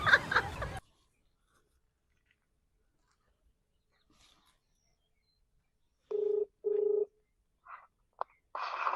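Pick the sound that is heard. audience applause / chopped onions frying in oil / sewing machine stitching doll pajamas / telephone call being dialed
telephone call being dialed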